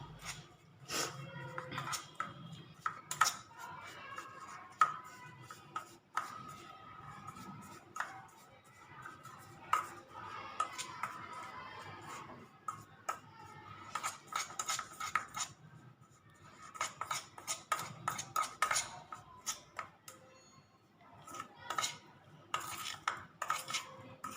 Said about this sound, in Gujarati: બધાને આપણે બરાબર મિક્સ કરી લઈશું